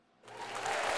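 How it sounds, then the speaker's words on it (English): Applause starts after a short quiet moment and swells into steady, dense clapping from a group, growing louder toward the end. "Give him a round of applause."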